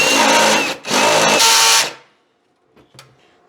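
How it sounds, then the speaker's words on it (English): A power drill with a step bit bores holes for a DIY solar system build, giving two loud whirring bursts with a brief pause between them, then quiet with faint clicks and handling sounds. "It's called a step drill."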